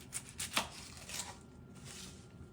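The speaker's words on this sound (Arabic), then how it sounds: "هذا البصل راح نقصه منه" A knife cuts through an onion on a board in a home kitchen, making a few quick soft chops near the start and then quieter scraping, with no talk over it.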